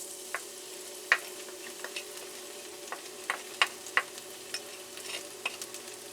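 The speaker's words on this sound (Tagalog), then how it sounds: "tayo magigisa na ngayon ng ating gulay. Bigay tayo ng konting mantika. Ito ang ating bawang." Garlic sautés in a little cooking oil, a soft steady sizzle punctuated by sharp, scattered clicks of a utensil against the pan, with a faint background hum and no talking.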